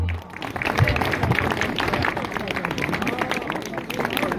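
Christmas-market crowd in Târnăveni claps steadily to welcome a carol singer onstage, a sustained outdoor applause with murmuring voices mixed in.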